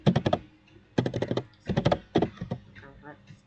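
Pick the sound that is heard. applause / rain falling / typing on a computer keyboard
typing on a computer keyboard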